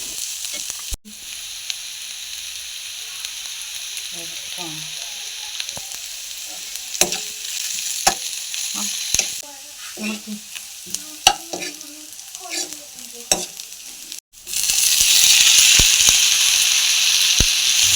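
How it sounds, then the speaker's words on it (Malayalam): Chopped garlic and ginger frying in a pan, a bright steady sizzle punctuated by sharp stirring clicks and scrapes, with a sudden louder burst of hissing near the end. "അഞ്ചാറ് അല്ലി വെളുത്തുള്ളി അരിഞ്ഞതും ചെറിയ ഇഞ്ചി ഒന്ന് ചെറുതായി അരിഞ്ഞത് ഇട്ട് കൊടുക്കുക"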